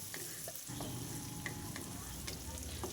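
Raw spice paste with chopped tomato is stirred in a pan for a rohu fish kofta gravy, giving a soft, continuous frying hiss dotted with small spoon clicks and scrapes.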